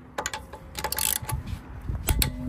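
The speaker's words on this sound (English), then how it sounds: "just double check they're all torqued and count to five" A torque wrench checking the wheel bolts on a Mercedes A180 gives a quick series of sharp ratcheting clicks in short bursts, close and fairly quiet, with no talking.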